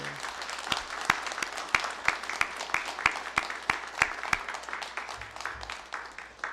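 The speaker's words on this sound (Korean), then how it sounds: "박수하겠습니다" A church congregation bursts into applause, a roomful of hands clapping steadily for several seconds in a reverberant hall, with no talk over it.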